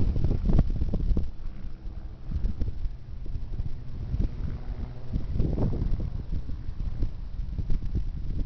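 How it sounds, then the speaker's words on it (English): Gusty wind blowing outdoors on a clear day in Yakima, Washington, buffeting the microphone in uneven low rumbling surges that swell and fade over several seconds. "A little bit windy."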